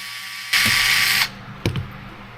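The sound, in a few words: screws being removed from DC10 drift car bulkhead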